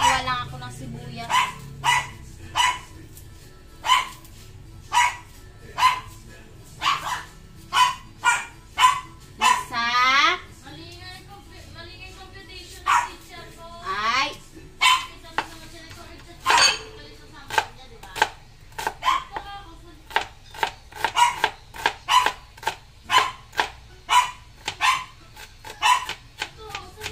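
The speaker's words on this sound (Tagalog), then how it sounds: "Ingay ng aso ko." A dog barks repeatedly in a kitchen in sharp, loud bursts, sometimes in quick runs, with a few whining yelps in between.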